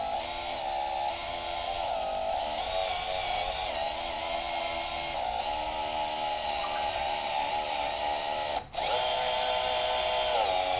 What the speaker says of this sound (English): 1/2-inch drill hole. Nice and slow.